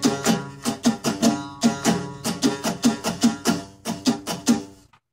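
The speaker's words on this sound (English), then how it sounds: "the strumming pattern, I'll slow it down a little bit for you." An acoustic guitar plays a slowed-down chorus strumming pattern, with a steady run of about a dozen evenly spaced strums, clear and close, then a short stop at the end.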